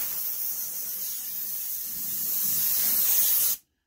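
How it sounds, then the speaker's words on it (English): An air blowgun on a shop air hose blasts sawdust off hardwood flooring scraps, a loud continuous close hiss that swells slightly before cutting off abruptly near the end. "I am using the blowgun on the air hose."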